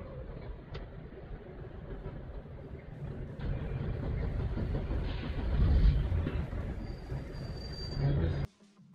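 Tata Safari diesel engine being cranked and struggling to start, a long steady rumbling churn that swells louder midway, then cuts off abruptly near the end without catching.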